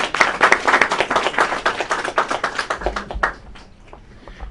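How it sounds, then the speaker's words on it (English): Applause breaks out among the audience at a press conference held by a Belarusian Olympic athlete in Poland, a dense patter of many hands clapping that fades and thins out toward the end. "I guess we all deserve some sort of applause."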